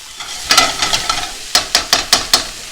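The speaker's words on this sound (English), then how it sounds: "we're going to let that come to a boil, and that should happen pretty quickly" Beef and broccoli stir-fry sauce bubbling and sizzling in a pan, with a series of short scraping, stirring bursts rising over a steady background, close and loud.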